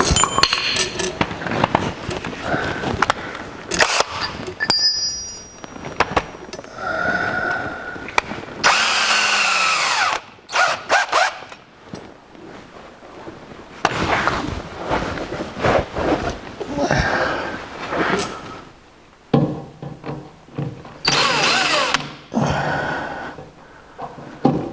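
A power tool punching a hole in aluminum during a gas tank install on a 1964 C10 pickup, with several loud bursts of grinding and drilling between quieter clinks and handling of metal parts.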